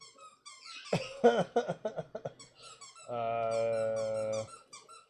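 A puppy squeezes a squeaky dog toy indoors, giving a burst of short rapid squeaks followed by one long sustained squeal, fairly loud and close, with a brief spoken word.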